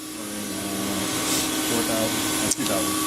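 The main spindle of a 2011 Tsugami S206 CNC Swiss lathe with FANUC 31iA control runs with a steady, loud mechanical whine and hum that holds throughout, with a brief bump near the end.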